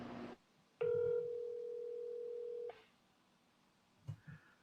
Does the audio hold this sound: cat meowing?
no